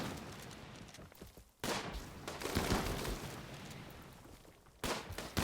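Colonists shooting guns in the colony-building game Rimworld, a stretch of mid-loud broadband crackling fire with a sharp burst near the start, a brief gap, and a fresh burst at the end.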